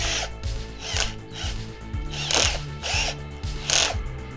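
A cordless drill's clutch slips at a low torque setting, giving a rapid series of loud ratcheting clicks in bursts, close up and alone.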